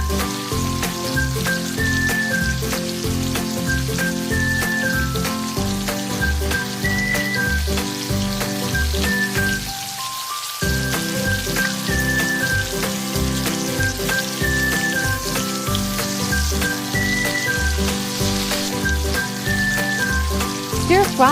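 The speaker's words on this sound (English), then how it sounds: "Fried shrimps until golden brown" Shrimps frying in a pan until golden brown, a steady bubbling sizzle with crackling pops that continues throughout, loud and close, with music or tonal sounds running underneath.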